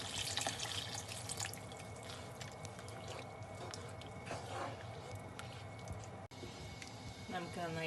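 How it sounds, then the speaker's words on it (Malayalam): Lukewarm water splashes and gurgles as it is poured into a pan of Kerala-style green peas curry, a soft continuous trickle with a faint voice in the background. "അല്പം ഇളം ചൂടുള്ള വെള്ളം കൂടെ നമുക്ക് ഒഴിച്ചു കൊടുക്കാം"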